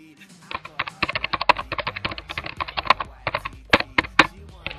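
Rapid clicking of computer keyboard keys as a folder name is typed, a dense, steady run of close, crisp keystrokes with no talk.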